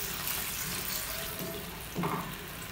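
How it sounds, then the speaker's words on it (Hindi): Water being poured into a pan of aloo gobi (potato and cauliflower) while cooking, a steady splashing pour with a brief louder gush near the end. "हम इसमें थोड़ा सारा पानी डालकर इसको पकने के लिए छोड़ देंगे।"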